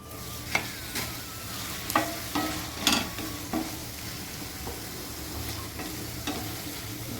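Tomatoes soften in a hot pan for a black pepper chutney, stirred now and then with a spatula, giving a steady close sizzle broken by several sharp scraping clicks, with no talking.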